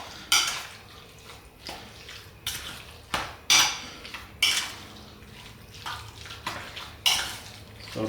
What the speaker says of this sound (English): let's give it a good mix first with all these spices